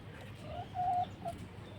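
A broody hen sitting in a dog box gives a few soft, close clucks, one drawn-out murmur in the middle among quieter short calls, over a steady low background hum.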